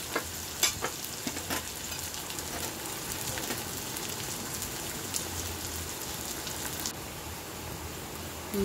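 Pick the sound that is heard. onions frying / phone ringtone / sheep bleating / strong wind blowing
onions frying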